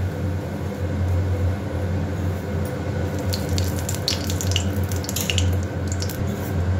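A bay leaf dropped into smoking-hot mustard oil sizzles with a steady, dense hiss, and brighter crackles and pops flare up midway through.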